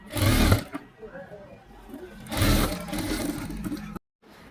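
A sewing machine stitching latkans for a blouse, running in two loud close bursts separated by quieter handling, with faint talk in the background.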